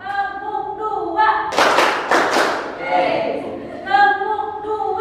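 Group hand-clapping game at a positive school culture seminar, with a burst of rhythmic clapping in the middle, set between stretches of talk.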